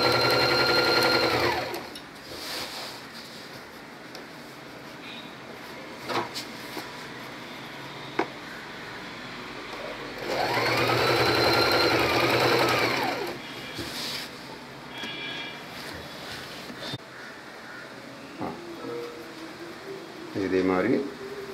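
Sewing machine stitching a belt onto the inner side of a silk pattu pavadai long skirt, with two loud runs of steady whirring stitches separated by quieter handling and someone talking in between.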